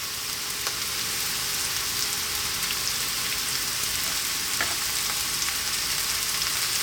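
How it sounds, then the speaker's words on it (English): Thinly cut fresh mushrooms fry in a hot pan, giving a steady, close hiss and crackle that runs evenly throughout without any voices. "We're now going to drop in our fresh mushrooms."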